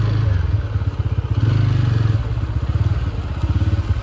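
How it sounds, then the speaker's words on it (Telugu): A motorcycle exhaust idles close by with a steady, loud, pulsing thump, a rapid even rhythm that holds throughout and carries no speech. "నాకైతే ఎగ్జాస్ట్ సౌండ్ ఘోరంగా నచ్చింది బండిది."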